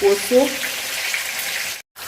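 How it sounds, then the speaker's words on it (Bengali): Lightly boiled taro pieces coated in salt and turmeric sizzle steadily in hot oil, close by, with a brief cut near the end and faint tones early on. "তেলি লবণ আর হলুদ দিয়ে মাখায় আমি হালকা ভাজা নিব"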